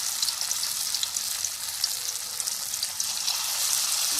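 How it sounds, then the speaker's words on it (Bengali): Banana flower fritters (mochar bora) frying in hot oil, a dense, bright, continuous sizzle close up with scattered crackles and pops throughout. "তেল গরম হয়ে গেছে। আমি এখন এক এক করে বড়াগুলোকে সুন্দর করে আমি দিয়ে দেব।"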